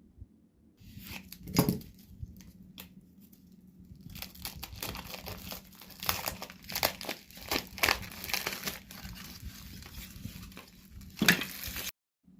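Decoupage paper from Tjhoko is crinkled and handled close by while being arranged over wooden shims, giving soft rustles and sharper crackling bursts with brief quiet gaps.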